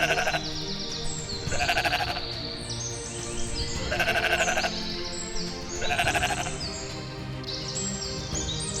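Sheep bleating in several loud, wavering calls spaced a couple of seconds apart, with a steady background hum between them.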